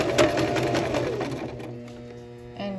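A sewing machine running a back stitch along a shirt hem, a fast steady mechanical whir with rhythmic needle clatter that slows toward the end, close and alone.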